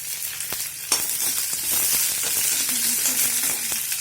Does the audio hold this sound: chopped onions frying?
yes